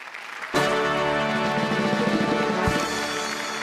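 Studio audience applause on a Marathi comedy show, a dense sustained clapping that starts abruptly and carries on loud and unbroken for a few seconds.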